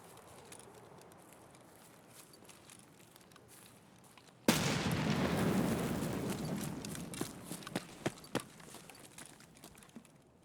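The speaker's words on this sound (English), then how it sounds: "Chucking nades for fun, apparently." A grenade bursts in a video game, one sudden loud blast that rumbles away slowly, followed by scattered sharp cracks and pops over a quiet background.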